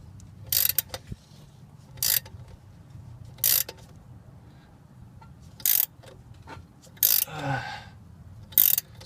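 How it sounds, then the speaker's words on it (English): A wrench cranks a puller clockwise on the crank pulley of a Nissan 300ZX, giving a series of sharp ratcheting clicks in short bursts spaced a second or two apart, close and clear over a low background hum. "get a wrench this size and start cranking it down clockwise, and it should start pulling this right off"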